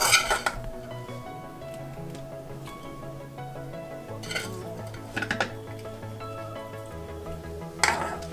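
Fried masala potatoes are scooped from a pan onto a plate, with metal utensils scraping and clinking against cookware in sharp intermittent knocks over a faint steady sizzle.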